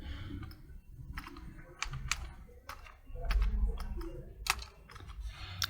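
Someone types a phone number and a message on a computer keyboard, a close run of quick, uneven key clicks with short pauses between bursts, over a soft room background.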